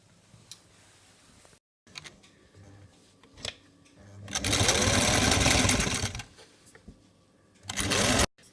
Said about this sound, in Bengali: সাইডে দিয়ে সেলাই মারি দিব।